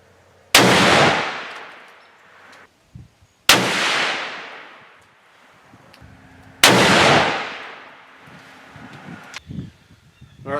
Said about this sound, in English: let's quit talking and get to shooting.